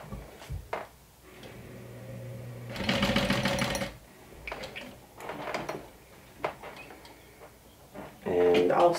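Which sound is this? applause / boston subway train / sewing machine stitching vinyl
sewing machine stitching vinyl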